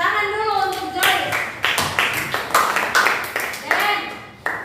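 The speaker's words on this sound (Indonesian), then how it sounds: "Tepuk tangan dulu untuk Sisko." Classroom applause from schoolchildren during a lesson, a run of quick, sharp hand claps in repeated bursts, close and fairly loud, with children's voices mixed in.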